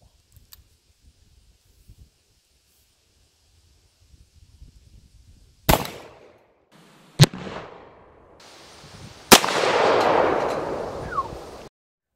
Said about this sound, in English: so we took a shot with the 454.